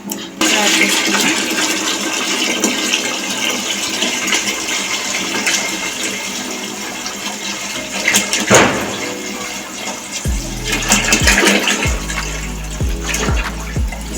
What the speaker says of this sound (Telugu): సో ఇలా వాటర్ వేసుకుందాం.